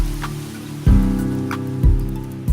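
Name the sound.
incessant winter rain in a vineyard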